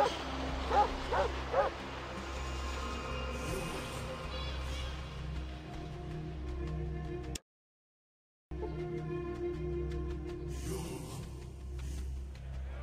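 A dog barks and whimpers in the Fallout 2 game, near and fairly loud over a steady droning soundtrack, with a brief silent gap partway through.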